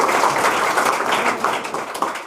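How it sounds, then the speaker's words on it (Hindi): Audience applause for a film's creative team at a live event, a dense steady burst of many hands clapping that holds for a couple of seconds without any voices. "एक बार जोरदार ताली।"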